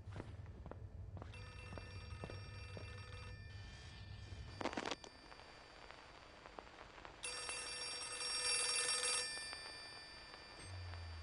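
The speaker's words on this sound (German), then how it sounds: "Das Telefon." Old telephone bell ringing in the Outlast 2 horror game, heard in a few bright bursts over low ambient hum and scattered footsteps in a dim school room.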